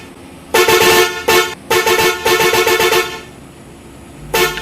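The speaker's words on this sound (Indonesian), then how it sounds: "Itu suara klaksonnya teman-teman." Several loud truck horn blasts of varying length from an Isuzu Giga truck in a bus simulator video game: a long honk, a short one, then two sustained ones with brief gaps, and a final toot at the end.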